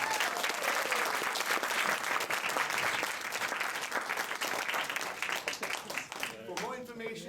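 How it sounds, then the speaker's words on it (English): A studio audience at a comedy show breaks into loud, sustained applause with dense clapping throughout, and a voice rises over it near the end as the clapping begins to thin. "we'll give a big round of applause for our wonderful audience here."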